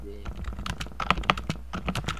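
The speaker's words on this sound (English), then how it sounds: "you have one of those chunky keyboards" Rapid clacking keystrokes come from a chunky computer keyboard in an irregular typing rhythm, nearby and moderately loud, with faint voices in the background.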